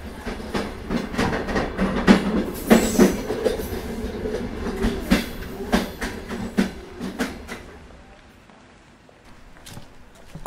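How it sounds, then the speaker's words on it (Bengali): A departing train gives a steady clickety-clack of wheels over rail joints, loud and rhythmic at first, then thinning and fading toward the end. "সময় মতো ট্রেন ছাড়ল।"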